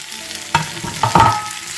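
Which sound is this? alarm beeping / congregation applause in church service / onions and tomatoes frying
onions and tomatoes frying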